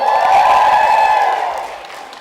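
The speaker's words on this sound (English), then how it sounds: "Can I just get a cheer for Daily Booth?" An audience at a women's vlogging panel lets out a loud, sustained cheer that swells briefly and then fades away over about two seconds.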